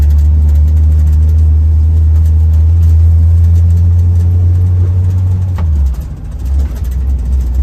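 A 1969 Jeep Jeepster engine pulling in third gear, high range, heard from inside: a loud, steady low rumble that drops in pitch and eases off near the end, with no talking.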